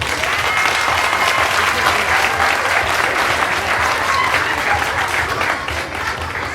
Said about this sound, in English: At this point, folks, the more you applaud, the deeper they go